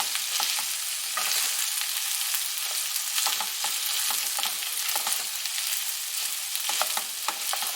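Pre-cooked jambalaya rice and vegetables are stirred in a hot pan, giving a steady, even sizzle with soft scraping and shuffling from the stirring, no voices.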